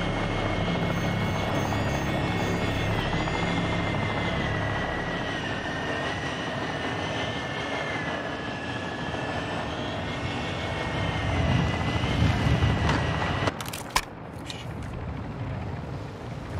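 An aircraft in the game Call of Duty Warzone 2.0 descends toward a landing zone with a loud, sustained engine drone that swells near the end before a sharp cutoff.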